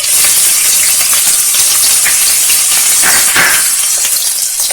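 Garlic and ginger hit a hot pan of oil while cooking North Indian baingan bharta, giving a loud, steady sizzling hiss with crackles throughout.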